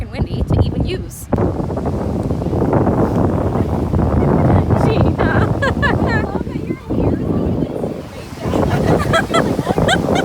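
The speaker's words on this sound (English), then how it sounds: "It's busy as heck, and it's extremely windy." Strong wind buffets the microphone with a loud, continuous roar over crashing surf at a busy, crowded beach, with the gusts easing briefly near the end.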